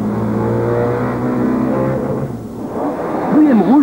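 Audi and BMW touring cars of the 1993 Belgian Procar series, engines droning steadily on the circuit with a sustained harmonic whine, then a revving rise near the end.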